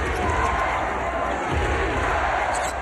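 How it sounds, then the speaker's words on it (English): Arena crowd at an NBA Finals basketball game, Los Angeles Lakers at Orlando Magic in 2009, roaring in a steady, dense wash of cheering and noise that holds loud throughout without a break. "Crowds come alive a little bit."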